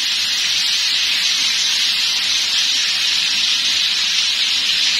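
Chicken steaks sizzle in a frying pan over a medium-low flame, a steady, bright hiss and crackle of hot oil that holds constant and close throughout without any talking.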